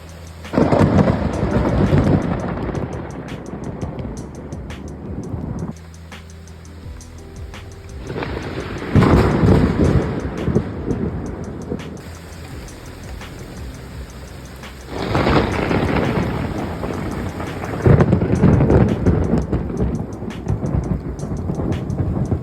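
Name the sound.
thunder from lightning strikes during a thunderstorm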